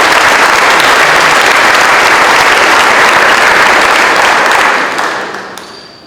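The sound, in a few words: audience applause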